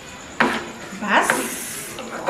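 Food being stirred in a frying pan with a light sizzle underneath, a few scraping strokes of a utensil across the pan, close and moderately loud.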